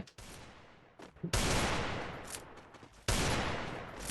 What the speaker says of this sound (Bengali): যে এখান থেকে ফায়ার দিয়েছে।